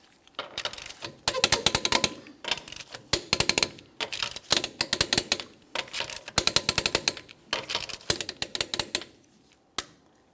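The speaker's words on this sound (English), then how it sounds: "we're going to be torquing each one of our lug nuts in a crisscross manner to that 80 foot-pounds" Lug nuts on a 2008-2017 Mitsubishi Lancer 2.4L being torqued to 80 foot-pounds in a crisscross pattern, heard as close, loud bursts of rapid ratcheting clicks separated by short pauses, with one final lone click.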